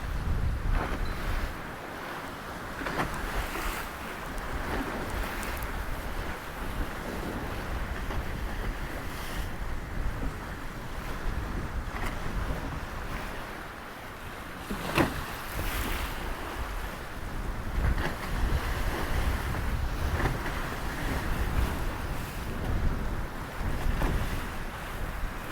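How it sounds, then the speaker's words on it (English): Open-ocean waves rush and surge continuously around a sailboat on passage to Tonga, mixed with steady wind buffeting the microphone. The sound is broad and loud with slow swells and occasional splashes, and no voices are heard. "I'll zoom in a bit on the waves."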